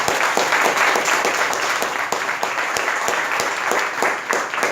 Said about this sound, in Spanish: ¿Cuántos pueden dar un fuerte aplauso al Señor?